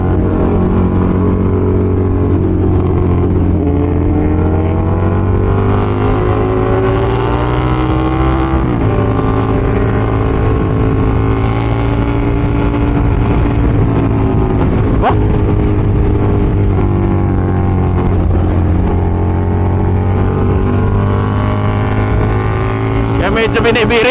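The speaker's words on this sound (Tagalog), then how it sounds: "testingin din natin tong motor bago natin i-discuss yan. Kasi yung exhaust, yung pagkakamount ng exhaust kung okay ba." Motorcycle engine on a Dream big bike revving steadily while riding, a continuous loud drone with rising and falling pitch as the throttle is blipped, heard up close throughout during a check of the exhaust mounting.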